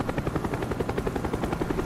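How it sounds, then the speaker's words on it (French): Helicopter hovering overhead in the shooter game Black Ops, a loud, fast, even rotor chop thumping steadily throughout with no talk over it. "c'est l'hélicoptère qui restait en suspension au-dessus"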